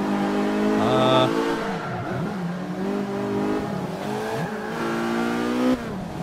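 A Lotus engine in the Forza 5 racing game revs and shifts through rising and falling tones, loud and continuous, with a brief tire squeal mixed in.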